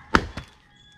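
An axe strikes firewood outdoors in Jamaica, two short woody thunks a moment apart, the first louder and close by, the second softer, with quiet air after.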